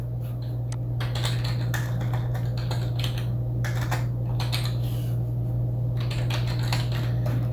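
Someone types on a computer keyboard to fill in a registration form, producing irregular bursts of close, crisp key clicks over a low steady background hum, with no one speaking.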